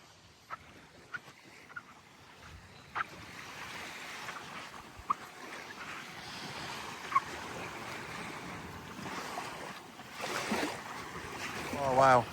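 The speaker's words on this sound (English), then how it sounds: "I love listening to the sound of the sea" Gentle sea waves wash onto Stogi beach in Gdansk, a soft continuous surf with light wind and a few faint clicks and knocks nearby.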